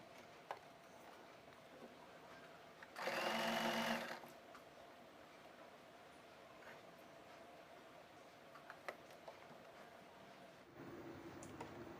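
Sewing machine stitching a bias-cut fabric strip onto the neckline of a kurti, a single close whirring run of about one second amid quiet room tone, with a brief mechanical rumble near the end.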